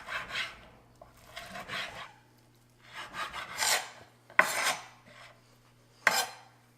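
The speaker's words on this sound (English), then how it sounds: "here we have 4 strips of bacon. Just cut them up into small pieces." A knife saws through four bacon strips on a cutting board, uneven rasping strokes in short bursts with pauses between, close and clear, no voices.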